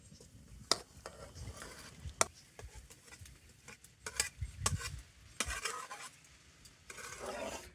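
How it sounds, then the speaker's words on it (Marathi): Fried masala stirred into boiled chicken broth for a spicy village-style chicken rassa cooked over a wood fire, with scattered sharp spoon clicks against the pot and a low simmering bubble throughout. "तर ह्या अळणीमध्ये आपण हा परतलेला आपला मसाला टाकून घेऊयात."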